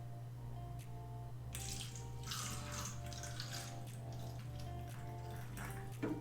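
Water poured or running, a soft splashing rush that starts partway through and continues over a steady low electrical hum, with a brief louder clatter near the end; no voices.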